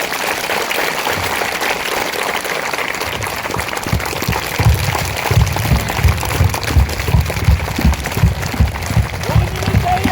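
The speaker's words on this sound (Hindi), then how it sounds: "ताली बजाओ।" Loud, sustained clapping from a large gathering of political party booth workers, fairly close, growing stronger and more rhythmic partway through and continuing to the end.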